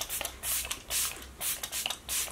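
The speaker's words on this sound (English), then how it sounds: "So I'm going to go in with my Kat Von D Locket Setting Spray" Kat Von D Lock-It setting spray is misted onto a face in several short, breathy bursts of hiss with brief pauses between them, close and fairly quiet.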